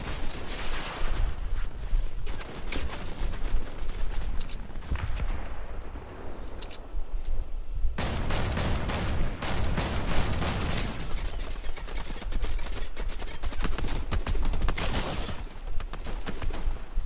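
Dense rapid gunfire in a video game, rattling bursts and overlapping shots running almost without pause, loud and close with a brief lull near the middle.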